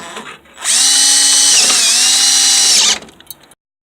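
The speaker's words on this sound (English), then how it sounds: "Drill this, use a little cutting oil on the tip of the drill." A power drill with cutting oil on its bit bores a hole during a stripped engine mount repair on a Ford Escort. It gives a loud, close, steady whine for about two seconds that dips briefly under load, then spins down.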